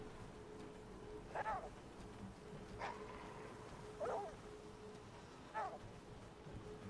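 Dog barks come in four short, evenly spaced pairs, fairly distant, over a steady ambient hum in the video game The Flame in the Flood, with no speech.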